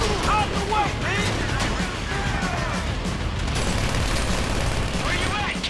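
Gunfire in GTA V crackles in dense, overlapping bursts amid a loud chaotic scene, with voices shouting over the shots.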